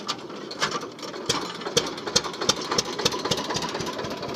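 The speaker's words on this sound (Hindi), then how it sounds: "तो भाई ट्रैक्टर तो चल गया" Old Eicher tractor diesel engine, a 1969 model, started by hand and then running with a rapid, loud, close knocking rhythm that steadies into idle.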